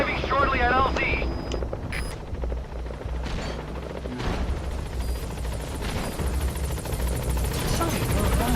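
In-game helicopter from Metal Gear Solid V arriving at a landing zone, a steady loud rotor drone running throughout, layered with game effects and radio voice chatter over it.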